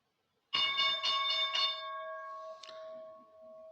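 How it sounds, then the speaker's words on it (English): The stock market opening bell rings at the start of a live day-trading session, a sudden bright clanging burst of several quick strikes that then fades into a long sustained metallic tone. "And there is the bell."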